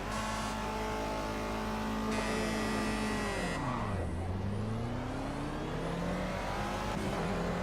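Race cars accelerating off the starting line at Oulton Park in the racing game Project Cars, loud engines revving up through the gears with rising and falling pitch sweeps as they shift, continuous and close throughout.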